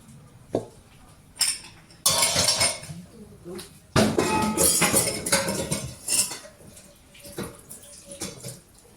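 Leftover tiger cake batter scraped out of a pan with a utensil, in bursts of metallic scraping and clinking separated by short pauses, with running water and a voice now and then.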